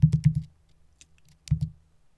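A few quick keyboard key clicks in a short burst, a pause, then two more taps, close and fairly quiet.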